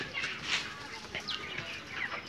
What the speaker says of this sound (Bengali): এটাতে 1500 মুরগি আছে।